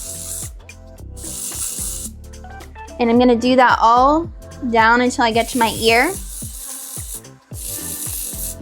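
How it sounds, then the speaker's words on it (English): Short hissing bursts of aerosol spray come close by, several in a row with pauses between, and a person talks over the middle stretch. "take my dry shampoo and spray"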